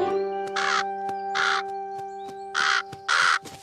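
Crows caw in four loud, harsh calls spaced unevenly over a steady tonal hum, close by and with no talk.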